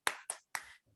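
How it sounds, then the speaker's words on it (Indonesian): Three crisp hand claps in a quick uneven rhythm, close and clean against silence, demonstrating a "tepuk semangat" clapping pattern in a numeracy training session. "kita lakukan tepuk semangat ya"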